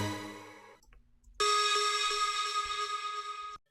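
A short electronic effect sound from an EDM sample pack: a bright tonal burst fades out, then after a brief gap a loud, sustained, buzzy synth tone holds for about two seconds with a few pulses before cutting off.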